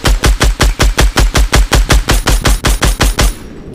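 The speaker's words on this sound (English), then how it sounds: "I hear a lot of fucking shooting." Automatic gunfire in the Fortnite video game: a loud, rapid, evenly spaced burst of about fifteen shots close up, ending abruptly, with no talk.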